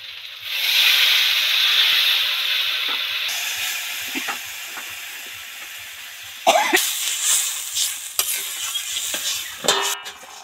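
Water poured into spiced masala frying in oil bursts into a loud, close hissing sizzle that slowly fades, followed by scraping stir strokes and renewed sputtering while a fish curry with brinjal cooks.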